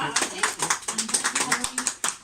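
A small audience claps to welcome Margaret Ramsay, with a few distinct hands giving sharp, close, irregular claps in a sparse patter, and a voice murmuring faintly underneath.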